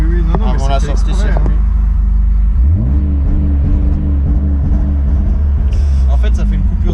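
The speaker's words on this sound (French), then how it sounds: "En fait, ça fait une coupure d'allumage et ça balance un peu de. C'est les crackle map." A BMW E36 325i running on E85 with an exhaust crackle map revs up and rumbles loudly, the engine note rising and holding with pops, while voices talk over it.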